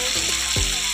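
Spices sizzle steadily in hot oil in a pan for a fish curry, a dense bright crackle with a soft stirring swish.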